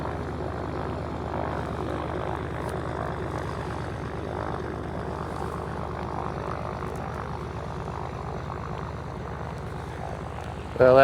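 Float plane propeller engine droning steadily overhead at Brooks Camp in Katmai National Park, Alaska, a continuous loud throbbing buzz that holds level throughout with a sudden louder bump at the very end.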